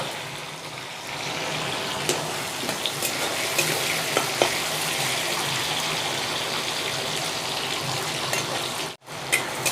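Chopped tomatoes frying in hot oil with panch phoron and green chillies, a steady close sizzle with scattered clicks of a spoon stirring the pan, a brief dropout near the end.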